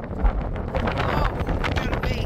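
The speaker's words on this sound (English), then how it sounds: "Sorry about the wind noise" Strong wind buffeting the microphone, a constant low rumble and rustle throughout, with a person speaking briefly underneath.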